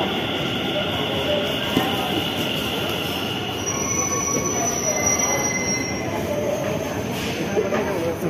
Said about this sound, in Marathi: तर आपली मेट्रो इकडे आलेली आहे.